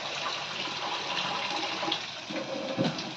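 Water runs steadily into a rice pot, a continuous splashing pour with a slight rise in tone as it fills, close by.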